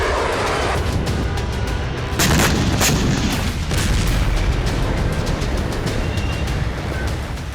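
Israeli missile strikes exploding in Syria: a rumbling roar of repeated heavy blasts and booms, loudest around the middle, continuing as a dense, distant-sounding barrage with no talking.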